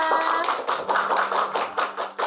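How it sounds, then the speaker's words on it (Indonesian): Hands clapping in a steady burst right after an opening greeting on a school podcast at SMKN 1 Gantiwarno, with a faint tone humming beneath and voices close by. "Tepuk tangan semuanya"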